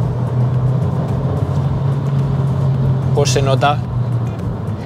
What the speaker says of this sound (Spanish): No sé si se oye el motor, pero tiene un sonido bonito, este cuatro cilindros